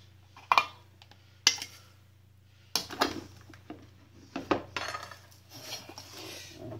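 Raw cat food being put into bowls: a scattered series of sharp clinks and knocks of dishes and utensils, close and fairly loud over a steady low hum, no talk.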